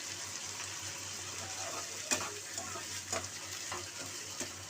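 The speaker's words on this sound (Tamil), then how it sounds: "இப்போ வந்து அவரைக்காய் சேர்த்துக்கிறேன். நல்லா வதக்கிக்கலாம்." Flat beans (avarakkai) with turmeric sautéing in a pan, a steady soft sizzle with scattered stirring clicks and scrapes, close and fairly quiet throughout.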